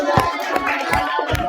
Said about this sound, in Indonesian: Saya kasih tepuk tangannya.